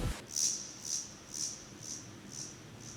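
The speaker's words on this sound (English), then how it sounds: "I introduced a guiro in every first snare hit with some echo" Guiro scrape layered over a hip-hop beat's first snare hits, with echo: a sharp high rasp repeats roughly every half second, each hit trailing off in fading repeats, alone without voices.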